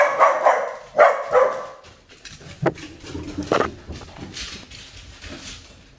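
Dogs barking in an anxious, charging burst: several loud close barks in the first half, then sharper isolated yips and a whimper trailing off into quieter sounds, with no talking.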